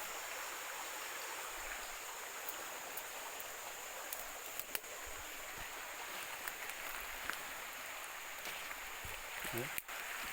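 A river stream flowing in a garden valley during heavy rain, a steady hissing wash of water at moderate level with a few faint knocks and handling noises.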